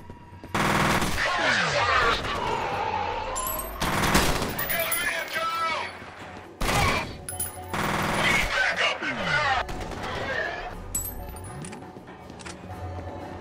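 Rapid bursts of ASP rifle fire in the shooter game F.E.A.R. Perseus Mandate, loud sustained volleys broken by short pauses, with metallic clinks and in-game effects between them and brief speech.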